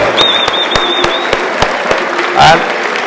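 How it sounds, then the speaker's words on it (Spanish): A small audience claps steadily and briefly, with clear individual hand claps and a voice speaking over them. "Un aplauso, fuerte aplauso para esta"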